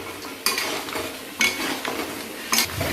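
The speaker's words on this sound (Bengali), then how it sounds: "একটু নাড়িয়ে দেওয়া হচ্ছে।" A spoon stirs Bengali honey mutton curry (mutton kosha) in a pot, giving three sharp metallic scrapes and clacks at regular intervals over a soft, steady sizzle, close by and with no talking.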